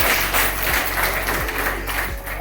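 Audience applause at a Bahujan Samaj Party political rally in Bahariyabad, a dense, loud, steady wash of many hands clapping throughout, with low thumps from a sound system beneath.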